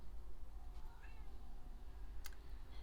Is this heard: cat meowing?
yes